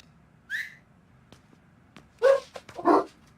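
Dogs bark a few times at moderate distance indoors, a short yip followed by a quick cluster of barks, after a brief whistle-like sound.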